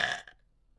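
A person burps on command in a single short, low, throaty belch that ends abruptly and is followed by near silence.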